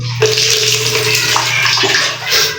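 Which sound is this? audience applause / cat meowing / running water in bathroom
running water in bathroom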